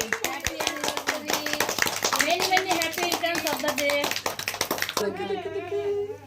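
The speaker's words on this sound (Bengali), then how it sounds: "হাততালি দে সবাই" Family members clapping in quick, rhythmic hand claps at a thirtieth wedding anniversary celebration at home, close and lively, with talking and voices over the claps before the clapping fades out.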